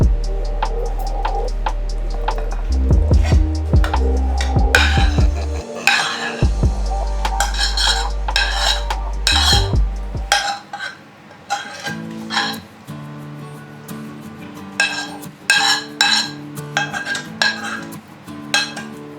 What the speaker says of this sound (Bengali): এই ব্যাটারটার মধ্যে এবার কর্নটা মিশিয়ে দিচ্ছি।